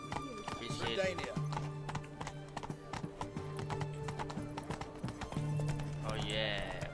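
Roach, a horse in The Witcher 3 video game, trots with a steady clip-clop of hooves and a few whinnies, while someone talks over the hoofbeats and steady game music plays.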